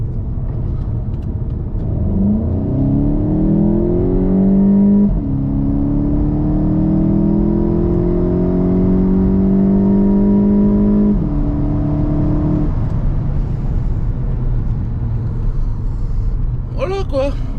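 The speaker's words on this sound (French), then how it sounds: "Je vais la mettre en sport. Voilà, c'est fait. Allez, je vous fais une petite accel." A new car in sport mode roars as it accelerates, its engine note rising in pitch through successive gears with distinct shift breaks, heard from inside over a steady road rumble.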